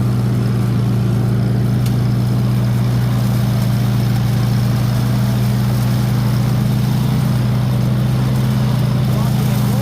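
A 1948 Farmall Cub tractor engine chugs steadily and close by, a constant low-pitched drone that keeps running unbroken throughout.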